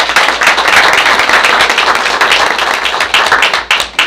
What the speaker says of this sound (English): let's give Miss Lamb a round of applause.